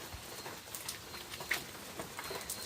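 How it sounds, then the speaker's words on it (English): Rain patters steadily and softly outdoors near red flowers, a fine even hiss of drops with faint scattered taps and no voices. "Yeah, jeez, it's raining."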